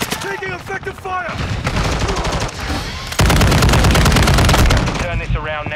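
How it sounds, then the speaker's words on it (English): Rapid automatic gunfire and bursts of shots from the video game Call of Duty: Modern Warfare II, loud and nearly continuous, with radio-style voice callouts mixed in. "Taking effective fire!"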